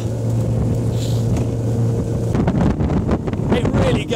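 A petrol engine on a Cormate T27 Supermarine motor boat gives a steady, close rumble under heavy wind buffeting, with rougher splashing texture toward the end.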